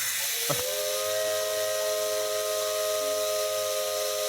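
A steam locomotive whistle from the video game Maitetsu sounds as a loud, sustained steady tone over a continuous broad steam hiss, preceded by a brief sharp burst as the blower valve opens.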